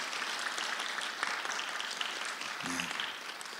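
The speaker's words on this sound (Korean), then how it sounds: "우리 WRMC 찬양단에게 큰 격려의 박수 한번 보내주실까요?" A church congregation applauds the worship team at a seminary chapel service, a steady wash of clapping from many hands held at an even level throughout, with a brief low voiced sound near the end.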